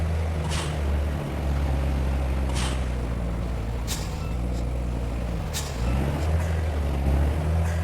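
A heavily loaded big-rig truck in the Truck Simulator Big Rigs game, a loud, steady low diesel engine drone with sharp hissing air-brake bursts every second or two, and no speech.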